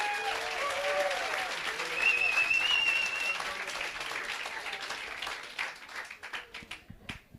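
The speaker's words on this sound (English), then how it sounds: "So a round of applause for the officials, please." A crowd at a schoolboy rowing regatta gives the officials a round of applause. The clapping swells, then thins into scattered claps and fades, with voices and a faint whistle in the background.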